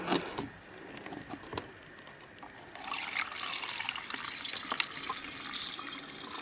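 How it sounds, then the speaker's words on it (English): Copper chloride solution pours into a filter during gold recovery from mobile phone SIM cards, a thin trickle that swells into a steadier splashing stream partway through, with small clinks and no talking. "all I'm going to do is just pour this off into the filter."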